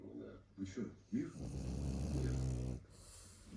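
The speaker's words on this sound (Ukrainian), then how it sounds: "а цей то хропун дає жизнь." A sleeping person snores in a deep, rumbling stretch, coming in after a few short breathy sounds and a voice at the start, then trailing off near the end.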